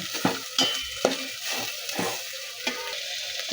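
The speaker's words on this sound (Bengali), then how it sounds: "সবজিগুলো দিয়ে দিচ্ছি, একটু নাড়াচাড়া করে ভেজে নেব" Vegetables for rajma khichdi fry in a pan while being stirred, a constant sizzle punctuated by regular spatula strokes about twice a second, close and moderately loud.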